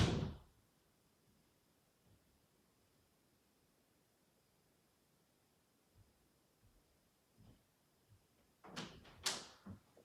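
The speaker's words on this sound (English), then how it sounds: "I'll close this door and tell me if you hear it." A door shuts in a hallway with a sharp knock right at the start, then quiet room tone with a few faint footsteps and two louder bumps near the end.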